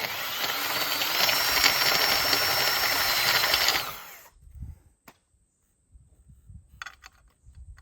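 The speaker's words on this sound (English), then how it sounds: "So I'm drilling this out so I can put this nut that I stick on to replace the bushing in through it" A power drill bores out a worn bushing on a Yamaha Waverunner III 650 jet ski, whining steadily for about four seconds before stopping, followed by faint clicks and handling noises.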